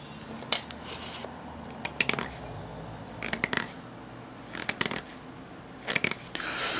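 Rough scraping and squeaky rubbing of a polyethylene foam sponge, coming in several short bursts with brief pauses between, close and fairly quiet.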